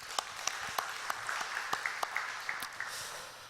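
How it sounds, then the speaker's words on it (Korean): Church congregation applause at a Korean church anniversary Sunday service, soft steady clapping from many hands, fairly distant and quiet, with a few louder claps standing out. "하나님 앞에 감사와 영광의 박수 올려드릴게요."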